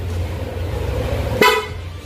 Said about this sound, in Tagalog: PIA horn na yan, original na may combo lights.